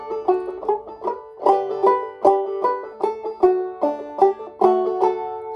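Banjo in D tuning playing the Sail Away Ladies melody with brushed chords, a steady, bright, plucked rhythm of repeated ringing notes, close and clear with no talking.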